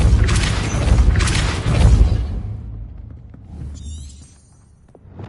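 Depulso spell cast in the video game Hogwarts Legacy: a loud, booming blast with a rushing whoosh that rolls off into a lower rumble, followed by a fainter magical shimmer.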